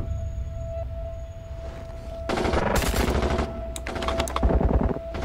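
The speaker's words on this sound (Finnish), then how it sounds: "Asematasolla ammuta." Rapid bursts of automatic gunfire ring out on an airport apron in a Finnish defense forces exercise at Kajaani airport, with loud volleys and single cracks over a steady background hum.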